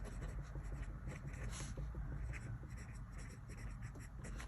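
A Kaweco Sport fountain pen with a double broad nib scratches faintly and continuously across paper, close by in a quiet room.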